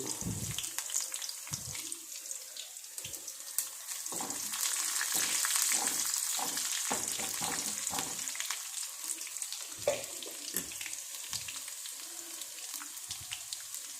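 Mustard seeds, fenugreek and a little onion fry in hot oil in a home kitchen, a close, continuous crackling sizzle broken by irregular stirring knocks, with no talking.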